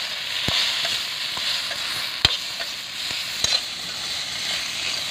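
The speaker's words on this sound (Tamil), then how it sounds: "இப்போ எல்லாத்தையும் ஒன்றா கலந்து எடுத்து வச்சுக்கலாம். புளியையும் இதோட போட்டுக்கலாம்." Beetroot and tamarind are stirred together in a frying pan, giving a continuous soft sizzling hiss broken by a few sharp spatula clicks against the pan, close up and without speech.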